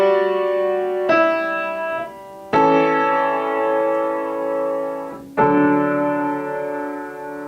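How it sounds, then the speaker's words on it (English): Sustained chords on a keyed instrument demonstrate a chord progression with a 7-6 suspension in the alto voice, four chord changes struck cleanly and held with gentle decay, no talking. "So that's a fairly common example of a 7-6 suspension"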